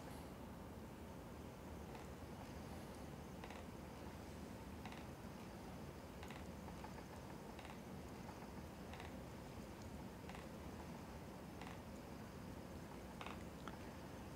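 Spinning wheel drawing woolen yarn onto a bobbin, a faint steady whir under a constant noisy hiss, with soft regular creaks or ticks repeating roughly every second throughout.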